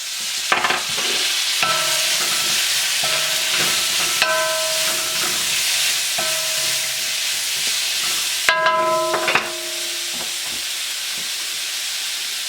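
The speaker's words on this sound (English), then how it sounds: "You want to cook these onions and peppers until they're getting a little aromatic and a little color on them." Onions, peppers and garlic stir-fry in a hot pan, with a constant loud sizzle and hiss and metallic clinks and scrapes from the utensil tossing the vegetables.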